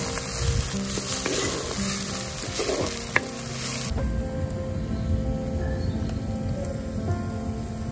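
Onions fry in a pan on a wood-fired stove, making a loud, continuous, close sizzle with a few clatters of stirring. The hiss eases to a slightly softer, steady crackle partway through. No one speaks.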